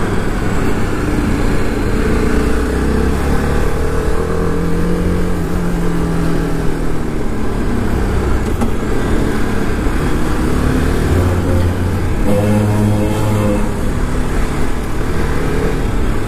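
A 2019 TVS Apache RR 310 motorcycle engine drones steadily while riding, a loud continuous low rumble with wind noise and a few rising and falling rev changes, no talk over it.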